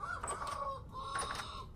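Chickens in the video game Vintage Story cluck in two short bursts of bright, nasal calls, close and clear, with no talking.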